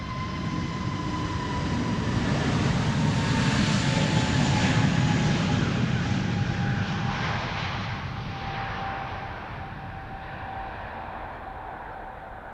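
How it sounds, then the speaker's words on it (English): An EasyJet airliner departs Amsterdam Schiphol with a loud, broad jet engine roar that swells over the first few seconds. A steady whine threads through it, and the roar slowly fades as the aircraft moves away. "EasyJet A380 Neo going to Rhodes in Greece."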